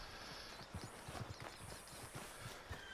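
Horse hooves clip-clopping at a steady walking pace while riding in the video game Red Dead Redemption 2, close and moderately loud over a soft outdoor ambient bed.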